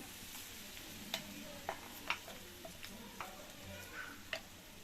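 A spatula stirs dry coconut powder in a frying pan, giving soft, scattered scraping clicks at an uneven pace over a quiet background, with no voices.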